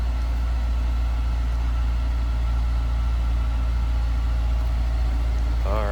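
A 2001 Honda S2000 with a stock-sounding engine idles steadily, heard from behind the car at the exhaust, a deep constant drone throughout with a faint voice briefly near the end.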